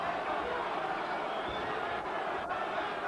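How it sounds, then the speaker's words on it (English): A boxing arena crowd roars at the close of the first round of Lennox Lewis versus Frank Bruno, a dense, sustained wash of massed voices filling the hall without a break. "you'll hear a big roar from the crowd"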